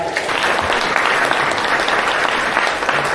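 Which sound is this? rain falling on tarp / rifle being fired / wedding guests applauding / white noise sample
wedding guests applauding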